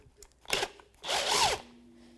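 Power tool tightening a shock absorber nut with a 15 mm socket on a 2008-2012 Jeep Liberty front suspension: two close whirring bursts, a short one and then a longer one that rises and falls, with no voices.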